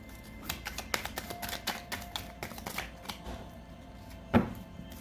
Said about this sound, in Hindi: ठहरो मैं इसको ज़रा शफल करूँ थोड़ा सा।